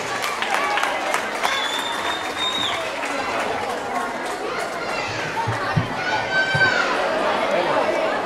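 Sustained audience clapping for pétanque prize winners at a village end-of-festival ceremony in Azagra, steady and crowded with chatter, children's voices and occasional whistles running underneath.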